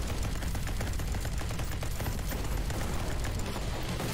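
Dense, nonstop automatic gunfire against flesh-eating zombies in the video game GROSS, loud rapid bursts blending into a continuous roar with no pauses.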